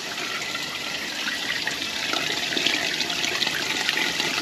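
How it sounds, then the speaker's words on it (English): Water flushed from a water heater tank gushes steadily down a drain, a continuous hissing rush that swells slightly toward the end, with no voices. "There's a bunch of larger pieces that are going right down the drain."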